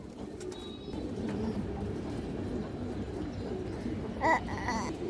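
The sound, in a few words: pigeons cooing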